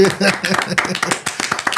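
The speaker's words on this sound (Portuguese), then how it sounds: "Palmas para o Thiago Artimonte." Studio applause greets a podcast guest, a brisk run of handclaps lasting about two seconds with a voice talking through it.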